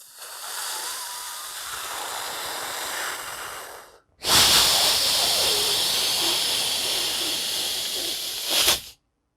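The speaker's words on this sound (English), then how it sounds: "We're using sound and breath to create a cooling sound." Two long breathy hisses, the second louder after a brief pause, like slow cooling exhales through the mouth with no talking.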